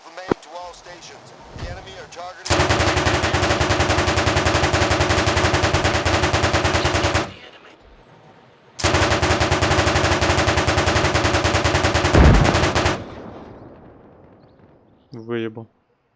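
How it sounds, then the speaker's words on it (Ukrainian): Sustained automatic machine gun fire in the game Arma Reforger, two long loud bursts of rapid rhythmic shots separated by a short pause, with softer gunfire and voices around them. "По мені стріляють."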